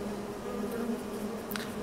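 Bees buzzing in the Farming Simulator video game, a steady low drone that holds evenly for about two seconds with no talking over it.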